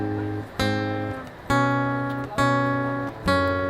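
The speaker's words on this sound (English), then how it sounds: "So without palm muting, it sounds like this." Guitar picking the notes of a song with the strings ringing open rather than palm muted; four sustained, bright chord hits recur about once a second, each decaying before the next, played alone with no talk.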